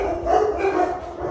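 Dogs barking in a continuous, fairly loud stretch of overlapping yips and barks, with no speech over them.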